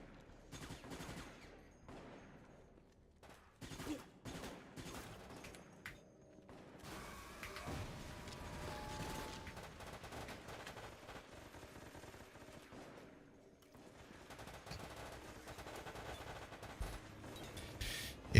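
Submachine gun fire in the Operation Raccoon City video game comes as dense, rattling bursts of automatic shots, steady and moderately loud, mixed with game-action crashes and effects.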